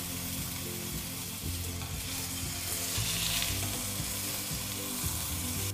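Beef sears in a non-stick pan while preparing beef Wellington, giving a steady, dense sizzle and crackle that stays loud and close throughout with no voices over it.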